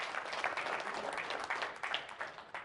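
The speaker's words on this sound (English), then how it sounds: "Brian, big round of applause." An audience at a marketing presentation applauds in a steady, dense patter of many hands, moderately distant and without any voices.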